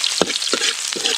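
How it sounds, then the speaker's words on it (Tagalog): Ginger sautéing in a pan over a campfire on a mountain at night, with a steady bright sizzle broken by three short stirring scrapes, close and fairly loud. "Pare, magigisa natin ang luya."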